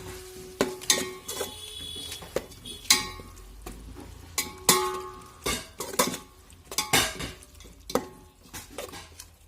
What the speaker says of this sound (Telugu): ఇందులోకి కొత్తిమీర, పుదీనా బాగా మిక్స్ చేసుకోవాలండి.